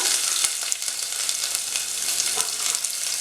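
Onions sizzle vigorously in hot oil after mustard seeds, a bright, constant crackle with scattered pops and spits, close and loud with no talking.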